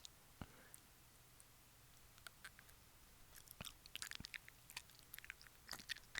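A stick of butter bitten and chewed close to a microphone, with faint wet clicks and soft crunchy chewing sounds growing busier over several seconds in a quiet room.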